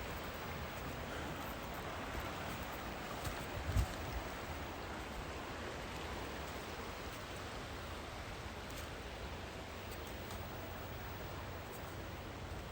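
Steady broadband rush of a stream flowing at night during a hike, continuous and even throughout, with one brief soft knock partway through.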